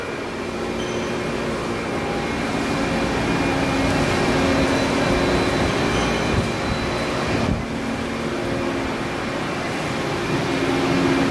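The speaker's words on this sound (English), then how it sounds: "This is the rotary shear with its bow tie blades." A rotary shear with bow tie blades running in a steel warehouse, cutting moving steel on a temper pass line, heard as a loud, continuous industrial rumble and hum with faint rhythmic clanks.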